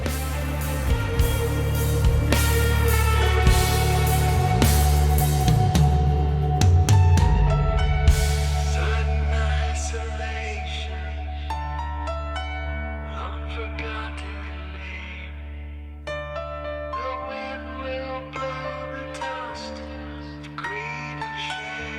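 A full rock band plays with loud drums and bass while a lead guitar solos on top, sustained bending notes soaring over the mix.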